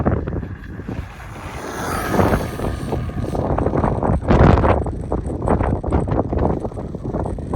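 A Traxxas Stampede RC truck with a budget Onyx power system runs at full throttle outdoors, giving a loud, continuous motor whine mixed with rushing wind noise that swells midway, with no talking.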